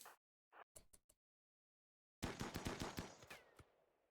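Colonists firing guns in Rimworld: a few sharp, sparse shots, a stretch of silence, then a quick rapid burst of overlapping rounds that thins into scattered final shots.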